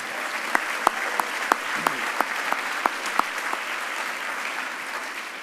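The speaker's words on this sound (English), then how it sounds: "Please, one more round of applause for all the award recipients." Audience at a fall staff assembly applauding award recipients, a steady bed of clapping with several louder individual claps standing out, continuing for several seconds at moderate volume.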